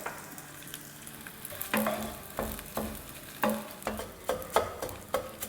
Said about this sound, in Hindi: तो इसमें अब हम गोंद फ्राई करेंगे।